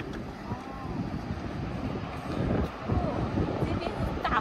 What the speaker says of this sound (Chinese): 这边是大风啊